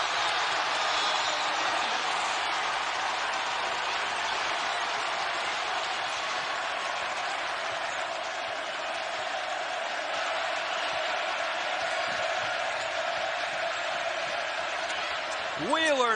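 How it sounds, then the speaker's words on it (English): A basketball arena crowd at a Texas A&M vs Kentucky college game roars continuously at full volume, a dense sustained wall of cheering that barely dips, with a whistle near the end. "how about the noise in this crowd? Deafening."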